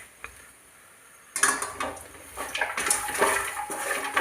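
Lotus seeds stirred with masala in a pan over low flame: after a quiet start, close scraping and clattering of a spoon against the pan come in irregular bursts.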